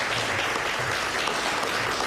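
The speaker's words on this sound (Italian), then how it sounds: "raccogliamo un applauso" Steady applause from an audience welcoming a doctor to the stage at an official event, a dense, even wash of clapping throughout with no gaps.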